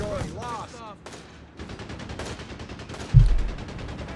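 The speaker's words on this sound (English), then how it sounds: "Panzergrenadier being spotted by that M16. RedxWings continues to swing it about there quite effectively" Machine gun fire from an American M16 halftrack in Company of Heroes 3, heard as rapid bursts with a louder thump near the end, mixed with game battle noise under a voice talking.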